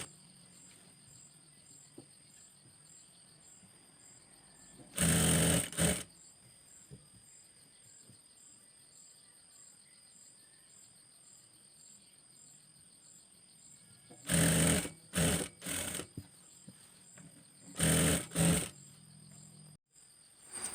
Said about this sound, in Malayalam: അടുത്ത സൈഡും നമുക്കൊന്ന് സ്റ്റിച്ച് ചെയ്തെടുക്കാം ഇതുപോലെ ഫുള്ളായിട്ട് സ്റ്റിച്ച് ചെയ്തെടുക്കാം